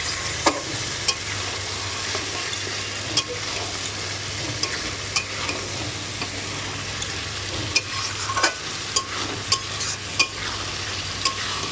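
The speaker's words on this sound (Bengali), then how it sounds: "মাংসটা দিয়ে প্রায় আধা ঘন্টা 1 ঘন্টা মতন কষাবো" Meat stir-fried in a pan for a Bengali home curry, a continuous sizzle with regular clinks and scrapes of the spatula against the pan, steady and close, with no talk.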